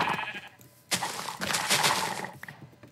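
Sheep bleating in Minecraft, played in Hardcore mode on version 1.17, with a few short bursts of bleating and game noise close up after a quiet start.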